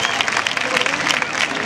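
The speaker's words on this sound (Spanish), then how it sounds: "Un aplauso para ti," Crowd at a bull-leaping fiesta in Benidorm, Spain, applauding a performer named Pablo: steady, dense clapping held at an even level across the whole moment, fairly close and loud.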